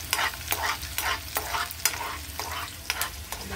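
Onions sautéing in a pan with a loud continuous sizzle, punctuated by repeated scraping strokes of a spatula stirring them roughly every half second, close up.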